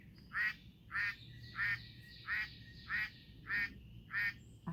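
Ducks quack in a regular series of about eight calls, evenly spaced and moderately close, over a faint outdoor background with no talking.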